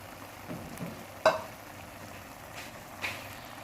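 A spoon stirs semolina halwa with beaten eggs in ghee over a low flame. The sizzle is quiet and steady, with one sharp scrape of the spoon partway through.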